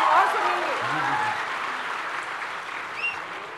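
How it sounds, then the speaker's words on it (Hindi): Applause from an audience at a recitation of a nazm, a steady broad wash of clapping that holds through the clip, with a voice briefly audible at the start and a faint tone near the end. "बहुत अच्छा, जोरदार तालियां।"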